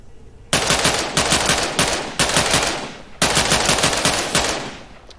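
Loud, close automatic gunfire from an Unreal Engine 4 video game, several rapid-fire bursts of dense rattling shots separated by brief pauses.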